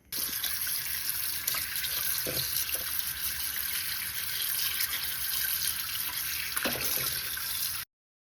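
A kitchen tap runs steadily while raw chicken is washed, giving a continuous close hiss of flowing water with faint splashes and handling sounds. It stops abruptly near the end.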